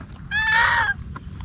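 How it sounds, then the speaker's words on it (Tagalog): A turkey gives one short, loud, wavering gobbling call that lasts about half a second, heard close up and alone. "Ayan, pabo yan."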